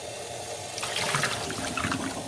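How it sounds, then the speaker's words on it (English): Water starts running and splashes onto Shetland wool being rinsed by hand, a close, bubbling gush that picks up partway through and keeps flowing. "as I let the water come in and then I put some pressure onto the wool"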